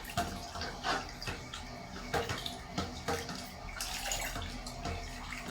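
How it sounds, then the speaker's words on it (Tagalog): Homemade DIY fabric conditioner is stirred with liquid sloshing and splashing at close range, in uneven swishes and small knocks that come and go in a loose rhythm, fairly quiet and without talk. "Haluin pa natin maigi kasi may mga buo-buo pa siya."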